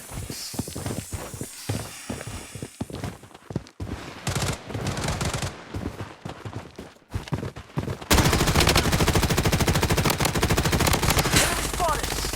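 Rapid gunfire in the mobile shooter Blood Strike, bursts of automatic fire that start sparse and choppy, then become a dense, loud, continuous barrage in the second half, with no talk over it.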